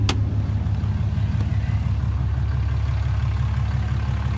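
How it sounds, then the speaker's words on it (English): A deep, throbbing diesel engine of a 2017 Ram Laramie pickup with a Cummins engine, EGR delete and throttle body delete, idles steadily up close, its low pulsing rumble continuous and even, with a brief click at the very start. "It's got a nice rumble to it."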